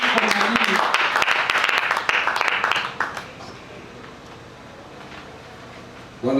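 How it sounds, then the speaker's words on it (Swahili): Loud, high trilling ululation with clapping from a crowd welcoming a teacher at a church couples-ministry conference in Uvira. It fills the first three seconds, then fades to faint murmur before another burst at the end. "tutamkaribisha mwalimu wetu kwa vigelegele"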